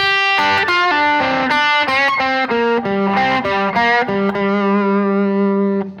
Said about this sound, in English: Now you got this fast run down the minor pentatonic scale.